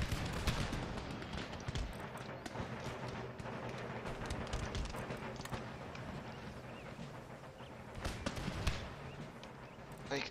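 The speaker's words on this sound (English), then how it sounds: "It's the first exchange of fire." Rapid crackling volleys of musket gunfire ring out between troops in the Darthmod Empire strategy game, a dense continuous barrage with sharper bursts throughout.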